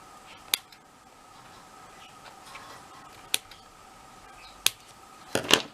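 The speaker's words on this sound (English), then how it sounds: "I'm just going to trim that off" Scissors trim overhanging paper on a handmade carousel paper-craft box, giving four sharp, isolated snips spread over a few seconds, close but fairly quiet, with no talk.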